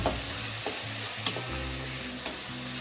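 Onion, garlic and ginger paste frying in a wok for an Assamese fish curry, with a steady soft sizzle and a few light stirring scrapes and taps, no talking.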